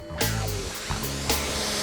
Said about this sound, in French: rien ne vaut un aspirateur sur lequel elle a ajouté un filtre spécial